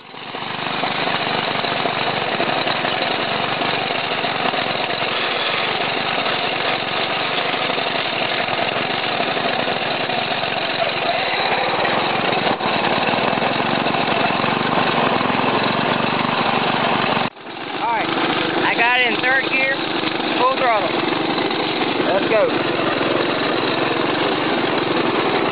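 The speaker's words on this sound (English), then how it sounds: "As you can tell, the engine ain't running quite right." John Deere 60 riding lawn mower with its small engine running rough, a loud, uneven, knocking idle that lasts throughout, with a brief cut near the end before the engine noise returns alongside faint squeaks.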